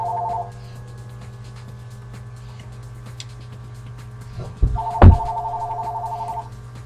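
A telephone rings with a steady electronic tone at the start and again near the end, over a constant low hum, with a couple of loud clunks as the handset is handled.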